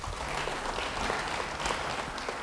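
A church congregation claps together in a quiet, even wash of applause heard from a distance, with no voices over it.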